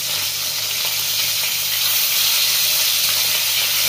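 Pabda fish sizzling steadily in hot oil in a pan, a continuous close, even frying hiss with no voices throughout.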